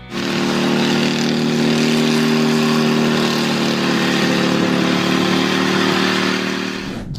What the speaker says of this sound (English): Here is a homemade helicopter built from scratch by passionate thinkers.